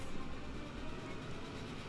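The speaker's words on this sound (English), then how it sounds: "That's a proper cargo train" A long cargo train running in Transport Fever 2, a steady, faint rolling rumble of rail wagons with no talk.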